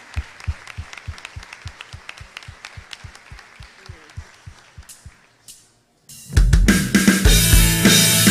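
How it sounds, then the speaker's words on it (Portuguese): Church congregation at an Igreja do Evangelho Quadrangular service claps in steady unison rhythm for about five seconds, falls briefly silent, then loud music and voices burst in. "Aplauda Jesus."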